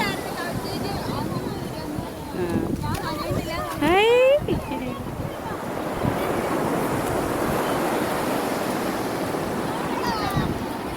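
Sea waves wash up a beach shore in a steady roar with gusts of wind buffeting the microphone, while people talk loudly nearby over the surf.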